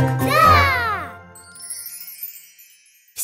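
A bright chiming tinkle rings out once and slowly fades, followed by near silence and a faint rustle at the end.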